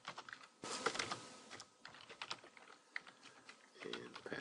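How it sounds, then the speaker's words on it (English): Rapid, quiet tapping on a computer keyboard, uneven bursts of keystrokes heard close up with no other sound competing. "So then we could type Gmail,"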